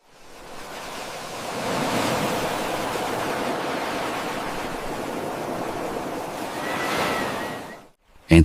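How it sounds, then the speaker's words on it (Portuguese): Ocean waves crash and wash along an open shore in a steady, loud roar of surf, swelling twice before the sound cuts off abruptly near the end. "escutando em silêncio o bater das ondas"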